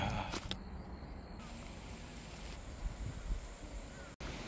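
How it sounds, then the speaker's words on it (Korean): Strong wind buffets the microphone on a mountain hiking trail between Anmin Pass and Ungsan, a loud, gusty low roar that swells and dips throughout, with faint rustling and handling bumps. "바람 많이 불어."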